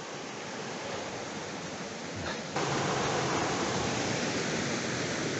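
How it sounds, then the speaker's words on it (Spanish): River water rushing near the Diamantes waterfall in Parque Dos Aguas, a broad steady roar of moving water that swells slightly louder partway through and keeps going without a break. "escuchar cómo corre el agua, es bueno, tanto para la mente"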